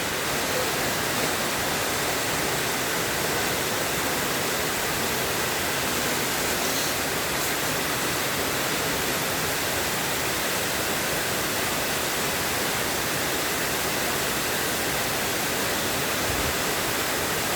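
Floodwater rushing around a house during heavy rain, a dense, constant roar of water that stays loud and unbroken for the whole stretch, with no voices.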